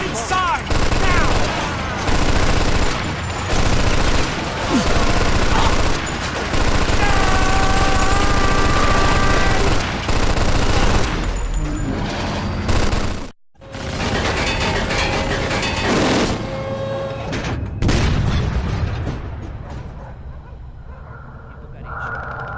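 Artillery and gunfire in the Mafia II video game, sustained loud bursts of rapid gunshots and booms with shouted voices mixed in, one sharp cutout midway, then fading toward the end.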